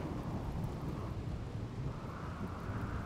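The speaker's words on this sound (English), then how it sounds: "at least it's raining" Steady rainfall with a low rumble of thunder in the colony game RimWorld, a continuous soft wash of rain under a distant rolling boom, faint and even throughout with no voices.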